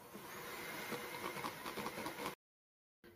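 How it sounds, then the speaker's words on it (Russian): An electric hand mixer whips 180 grams of soft butter in a bowl, a steady close motor whir with a rough churning texture that stops abruptly, leaves a brief silence, then resumes. "Взбиваю его с помощью миксера."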